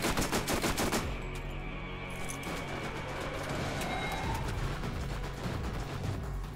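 Rapid gunfire in the Borderlands video game: a dense burst of automatic shots up front, then continuing loud shooting and combat noise throughout.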